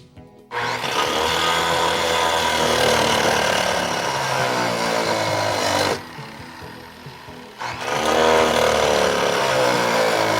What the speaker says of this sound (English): so we have to cut a hole large enough for the entire fitting to go through